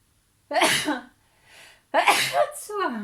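A single loud, close sneeze, followed by a quick breath and a short vocal sound.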